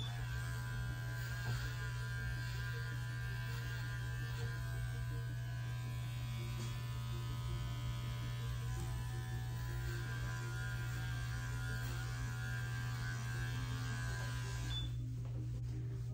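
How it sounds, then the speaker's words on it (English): Electric clipper trimming the facial hair of a Shih Tzu between eye and ear during a grooming session, a steady close motor buzz with strong mains-like hum running continuously, cutting off sharply near the end. "I'm going to come down with the clipper to bulk off some of that hair"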